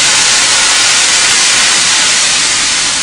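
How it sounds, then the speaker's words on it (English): White wine poured into a pan of sautéed mushrooms for tagliatelle sets off a loud, steady, close sizzle and hiss that fills the whole stretch without letup. "we're going to add a little bit of white wine."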